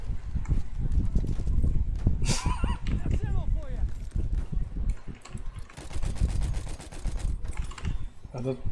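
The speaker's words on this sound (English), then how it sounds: "That goes the horse" Horse galloping with hoofbeats and a neigh in the Battlefield 1 video game, set among distant gunfire, with a person talking over much of it.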